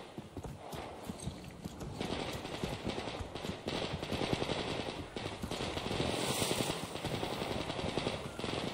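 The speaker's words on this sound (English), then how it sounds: "Gunfire." Gunfire in the video game Metro Exodus: rapid, dense bursts of shots mixed with hoof-like clattering, steady and moderately loud throughout.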